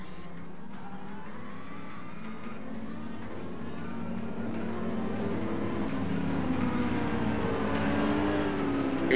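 GT3 race cars idling and rumbling together on the starting grid at Suzuka circuit in Japan, a dense, steady engine drone that swells slightly toward the end, with no talk over it.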